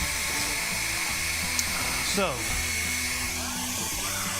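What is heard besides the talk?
blow dryer running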